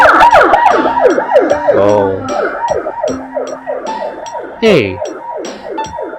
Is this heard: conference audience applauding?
no